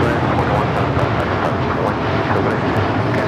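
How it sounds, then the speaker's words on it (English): An Air Canada Boeing 787-8 Dreamliner taking off for Toronto makes a loud, dense jet roar throughout, with a voice talking over it. "787-8 Dreamliner taking off to Toronto"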